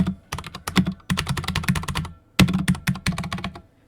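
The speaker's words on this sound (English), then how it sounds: "you're going to hear some keyboard clacking throughout the video." Rapid, crisp keyboard clacks in close bursts, bright clicky keystrokes with short pauses between flurries, no voices.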